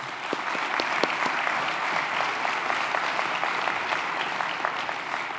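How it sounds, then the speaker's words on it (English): A conference audience at an energy summit applauds steadily, a dense, even wash of clapping with a few sharper individual claps standing out, sustained at a constant level throughout. "So if we can give all of them a round of applause,"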